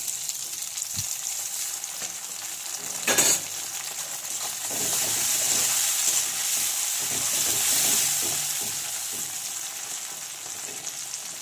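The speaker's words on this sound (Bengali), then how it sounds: "এরপরে পেঁয়াজটা ভাজা ভাজা হয়েছে এরপরে আমি কেটে রাখা টমেটো কুচিগুলো দিয়ে দেবো" Fried onion in a pan, with chopped tomato about to go in for a potato and drumstick vegetable dish, gives off a steady sizzle. One loud clatter comes early on, and the frying swells and stays strong after it.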